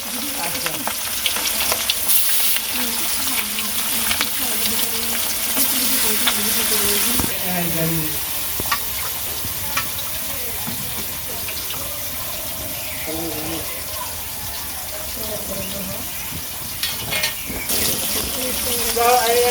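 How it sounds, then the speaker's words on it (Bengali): Catla fish frying in hot oil for a Bengali curry, a steady loud sizzle with occasional stirring scrapes and water sounds, a voice speaking briefly over it. "এই যে মাছ দিয়ে দিলাম"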